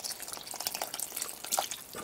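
Liquid from a can of green beans pours into a pot of chicken soup, a steady close splashing trickle with small drips running for about two seconds.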